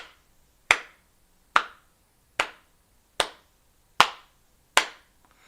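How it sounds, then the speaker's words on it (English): A single person's slow clap: six sharp, isolated hand claps spaced evenly about a second apart, close and crisp, each with a short decay into near silence. "Slow clap."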